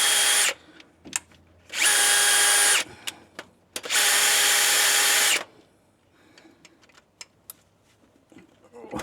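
Power drill spinning in bursts to lap in a part on a 1964 Impala wagon engine: two sustained whirring runs of about two seconds each, close and loud, with clicks and handling noises between and after.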